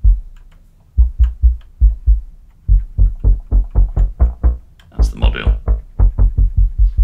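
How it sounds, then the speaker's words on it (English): A punchy sub bass synth preset from the Serum Icara pack plays alone as a sequence of deep, thumping notes with sharp attacks in a steady rhythm, with a brief brighter sweep layered in toward the end. "It's all about having that sort of real sort of punchy, subby attack."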